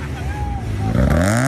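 A Mazda FD RX7 rotary engine roars loud and continuous during a boosted burnout, its pitch climbing as revs build, with excited crowd voices and shouting mixed in.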